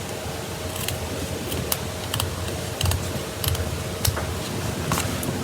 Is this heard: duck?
no